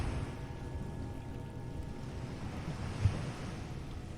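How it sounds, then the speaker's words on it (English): Steady low rumble of surf washing onto a shore, with a soft windy hiss throughout and one brief thump near the end; no voices. "waves rolling in and out beneath the moonlight"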